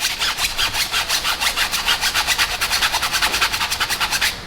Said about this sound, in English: It's a hard bristle brush for your tires.